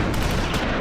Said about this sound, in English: German artillery hits the chateau.